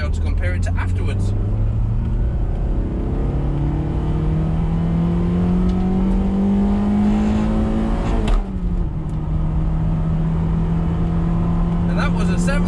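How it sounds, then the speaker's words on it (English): Toyota MR2 fitted with a homemade induction kit, heard from inside the cabin accelerating hard: rising engine and intake roar climbing through the revs, a sharp gear change, then pulling again, with a voice talking over it. "you're going to hear what the induction sounds like now, because I'm going to boot it down this road from inside the car"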